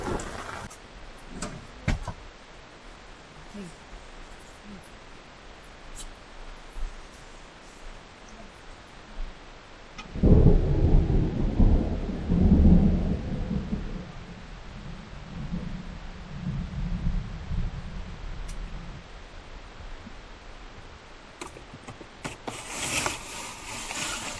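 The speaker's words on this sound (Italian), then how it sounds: "ci siamo svegliati con la pioggia" Rain falling steadily outdoors in the Pyrenees at dawn, with a soft continuous hiss that swells into a louder, rumbling burst midway like nearby thunder before easing back to a steady patter.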